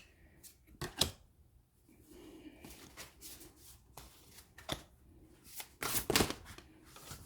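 Cards from an Awakened Soul oracle deck are shuffled and drawn at close range, giving soft riffling and sharp flicking snaps in irregular bursts, some louder slaps near the end, with no voices.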